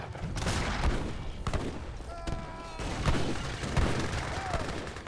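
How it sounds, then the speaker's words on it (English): Longbowmen volley fire in an Age of Empires 3 battle, with crackling bursts and thuds from several shots layered over dense battle noise and low, distant-sounding booms. "Longbowmen firing away."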